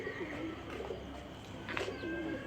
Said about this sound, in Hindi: ये कबूतर है माशाल्लाह से,